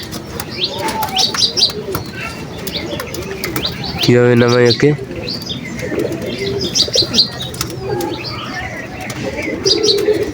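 Pigeons at a home loft coo and chirp among the birds, one loud pulsing coo standing out briefly while someone talks intermittently nearby.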